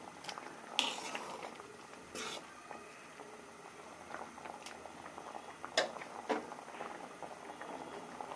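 Masoor dal with egg bubbles gently in a covered pot, faint irregular pops and soft gurgles over a low, quiet background.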